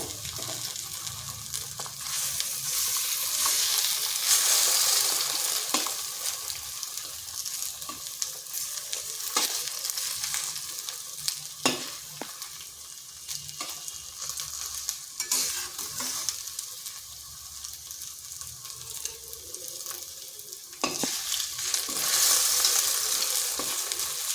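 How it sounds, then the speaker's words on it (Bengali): Okra and two eggs are stirred together in a frying pan, making a constant close sizzle with repeated scraping stirs throughout. "এইভাবে ঢেঁড়সের সাথে মিশিয়ে দিচ্ছি।"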